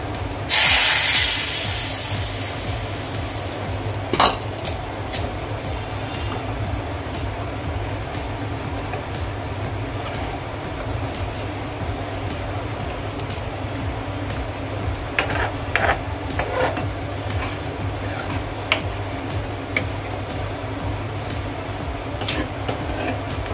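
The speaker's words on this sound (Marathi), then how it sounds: "आता आपण हा तडका कढीवरती घालून घेऊया." Hot tempering (tadka) with Kashmiri red chilli is poured onto kadhi, giving a sharp initial sizzle that settles into a steady frying hiss with occasional pops and clinks, close by and without speech.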